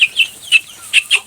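A local rooster clucks in a quick run of five sharp, close calls, loud and clear with no talk over it.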